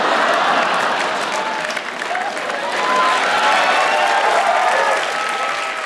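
A comedy-club audience at a stand-up show breaks into steady, full applause that holds evenly for about six seconds, with some scattered cheers mixed into the dense clapping.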